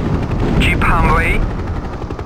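Enemy ground fire crackles continuously in a Hind helicopter combat game, loud rapid gunfire bursts over a steady rotor drone, with a radio-style voice speaking over the racket.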